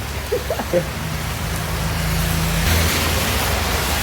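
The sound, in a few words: rain falling during a motorcycle ride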